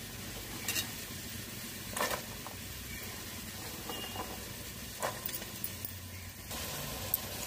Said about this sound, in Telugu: ఇప్పుడు పచ్చిమిర్చి వేసుకుందాం. ఇందులో ఆయిల్ వేడవింది.